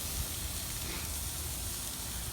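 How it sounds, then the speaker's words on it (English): Whole red snapper sizzles steadily on a charcoal grill, an even, continuous crackling hiss with no talking. "still hear that good sizzle"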